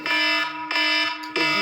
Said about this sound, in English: sorry guys, that's my alarm